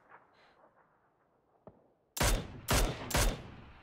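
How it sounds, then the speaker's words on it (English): Gunfire in PUBG on the Erangel map: three loud, sharp bursts of shots in quick succession after a stretch of quiet, low ambient noise with a faint earlier crack. "Gunshots far."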